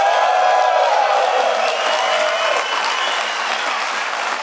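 A DEF CON 20 opening ceremony audience applauding and cheering, a dense, steady wash of clapping and crowd noise that fills the room without a break.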